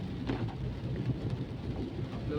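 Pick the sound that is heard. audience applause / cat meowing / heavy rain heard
heavy rain heard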